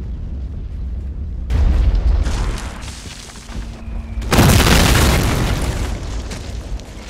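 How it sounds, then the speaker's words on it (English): Panzerschreck anti-tank rocket in Company of Heroes Blitzkrieg mod, a rumbling launch followed by a sharp, loud explosion burst, amid battlefield noise. "Panzerschreck firing along that line."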